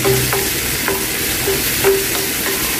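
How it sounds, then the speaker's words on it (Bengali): Garlic and shrimp fry together in a pan with a loud, steady sizzle, broken by regular scraping stirs of a spatula about every half second. "রসুন আর হচ্ছে চিংড়ি মাছটা একসাথে একটু ভেজে নিচ্ছি"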